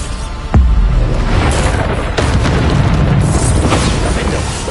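Bombarda blasting spell going off in Hogwarts Legacy, a sudden deep boom followed by a sustained rumbling roar with a second blast near the middle, loud and close.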